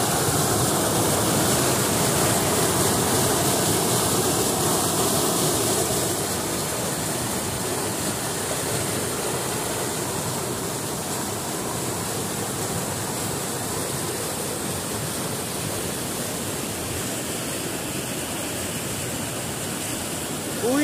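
Water from the São Francisco transposition pours down at the Riacho Seco stream, a loud, continuous roaring rush close by that eases slightly partway through, with no voices.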